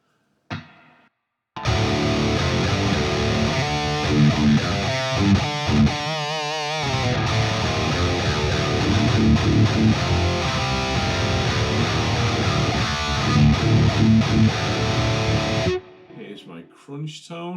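A heavily distorted electric guitar through a Quad Cortex modeler plays a chunky rhythm part for about fourteen seconds, loud and sustained, with brief speech at the start and end.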